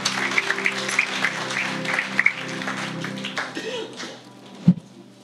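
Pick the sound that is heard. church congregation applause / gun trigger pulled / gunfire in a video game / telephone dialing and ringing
church congregation applause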